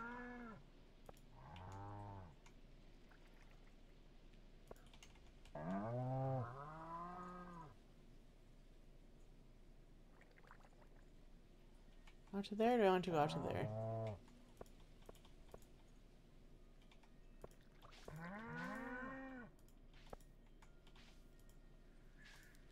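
Cows moo in the farming video game Stardew Valley, several short lowing calls spaced through the clip over quiet keyboard clicks, with a person talking briefly.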